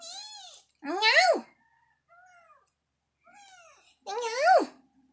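A tiny kitten gives several high, thin meows, two loud and rising with fainter ones between them, close by in a quiet room.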